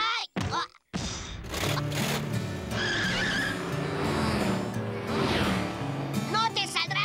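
Cartoon car engine roaring and tires skidding, sustained and loud with a squealing slide midway, under overlapping excited character voices and music in a Woody Woodpecker episode.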